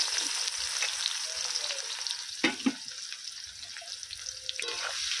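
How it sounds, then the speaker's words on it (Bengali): Chopped onions frying in hot oil for a mutton curry, a steady broadband sizzle throughout with a couple of louder clanks from stirring midway, close and fairly loud, with no voices. "এই তেলের মধ্যেই দিয়ে দিচ্ছি কেটে রাখা পেঁয়াজ।"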